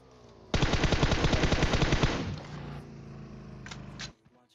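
Sustained automatic gunfire in PUBG Mobile, a rapid burst of fifteen or so rounds loud and close, then a quieter stretch of game ambience with a couple of faint clicks.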